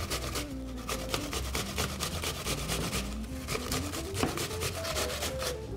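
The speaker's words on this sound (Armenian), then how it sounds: "Խնձորը և բողկը նույնպես քերում ենք մեծ անցքերով։" Apple and radish being grated on the coarse holes of a grater, a continuous rhythmic rasping of rapid back-and-forth strokes, close and steady throughout.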